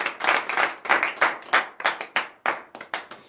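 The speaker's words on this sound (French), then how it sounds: "Donnez l'acclamation à Jésus." A congregation at a morning prayer service claps together in acclamation, a brisk run of sharp, loud hand claps at a steady rhythm, filling the room without any talk.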